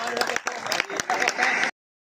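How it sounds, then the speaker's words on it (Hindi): Short burst of audience applause at a seniors' honouring ceremony in Hansi, dense clapping mixed with voices for under two seconds before cutting off abruptly. "तालियां तो बजा दिया करो"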